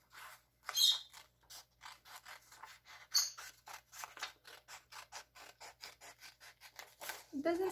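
Scissors snip through paper for a homemade Ramadan lantern, a fast run of about two dozen short, crisp cuts in steady rhythm, close and fairly quiet.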